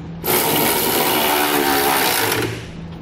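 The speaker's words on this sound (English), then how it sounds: "For my 1/2-inch hardware, I'm going to be using a 3/4-inch socket to tighten it up." A power tool drives a 3/4-inch socket onto the 1/2-inch bolts of DeeZee nerf bars on a 2014 Ram 1500. It gives one loud, steady whirring burst of about two seconds with no talk.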